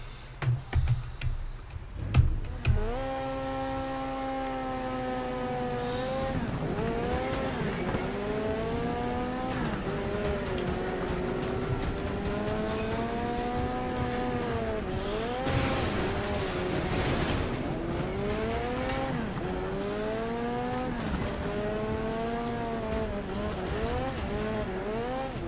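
Engine whine in the racing video game Next Car Game rises and falls in repeated gear-shift sweeps, with tire squeals and a few sharp impacts at the start, continuous and loud throughout.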